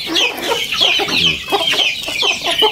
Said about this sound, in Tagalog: Ayan ating backyard chicken.